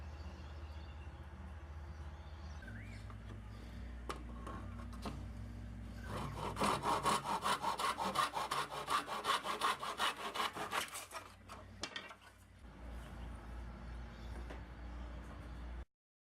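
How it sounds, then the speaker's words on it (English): A handsaw cuts a wooden dowel held in a saw jig in a woodshop, making steady back-and-forth rasping strokes that run for several seconds close up, then stop. "I put the dowel in the hole, marked how long it had to be, and then cut it in my handsaw"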